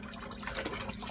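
Green leaves are rinsed under water, giving a short, soft splashing and trickling sound up close.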